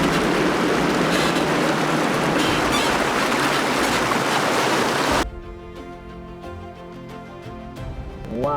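An off-road vehicle drives into water with a loud, continuous rush of churning and splashing for several seconds. The rush then cuts off abruptly, leaving a quieter engine hum and interior noise.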